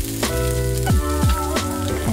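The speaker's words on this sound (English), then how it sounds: "All right, let's get stir frying." Loud, continuous sizzling of garlic and onion stir-frying in a hot wok, with a few sharp scraping stirs cutting through the crackle.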